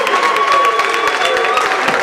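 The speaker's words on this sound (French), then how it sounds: "C'est par ces cris de joie Val-Marie et ces acclamations" At Collège Val-Marie in Mouila, a crowd of students greets the Senate president with loud applause, clapping and joyful cheering that fills the whole moment with steady, close acclaim.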